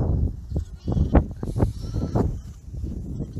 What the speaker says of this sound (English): we need two dogs with these sheep, because these blackies are clever